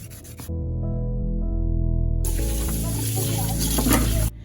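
Crumpled aluminium foil rubbed and scratched against raw carrot skins to scrape them off, a steady close-up scraping rasp running for several seconds with a brief hum before it starts.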